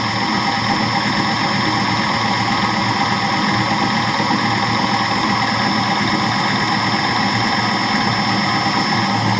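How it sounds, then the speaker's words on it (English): An industrial fan running at full speed during balancing gives a loud, constant droning whir with steady tonal hum that never changes. "Fan's at full speed, we'll take the reading."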